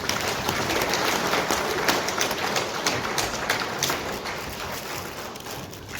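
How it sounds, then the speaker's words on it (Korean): An audience at a manufacturing innovation open forum in Gumi gives a lecturer a warm welcome with dense, sustained clapping that fills the room and eases slightly toward the end. "뜨거운 박수로 환영해 주시기 바랍니다"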